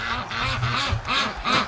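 Several ducks quack repeatedly in close, raspy bursts, loud and nearby.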